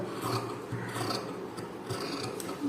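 Scissors cutting through blouse fabric to shape a neck piece, giving close rasping snips in an uneven series that runs steadily with no speech.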